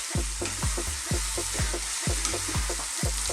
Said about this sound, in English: So let's just keep stirring this around.